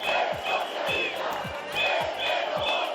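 Street demonstration crowd in Santa Cruz de Tenerife or Las Palmas de Gran Canaria protesting an amnesty agreement, with a dense, steady roar of many voices and rhythmic chanting pulses, loud and continuous throughout.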